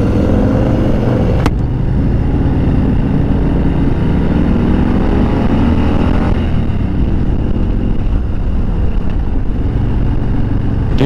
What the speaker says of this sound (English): dude, I cannot get enough of this engine.